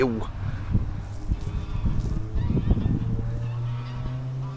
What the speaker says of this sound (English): There's some geese being strangled up there.